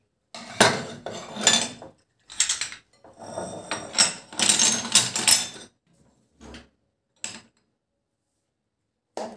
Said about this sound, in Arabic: وهشيل كمان العيون بتاعه البوتاجاز